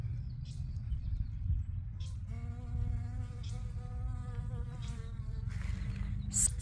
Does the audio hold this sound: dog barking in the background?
no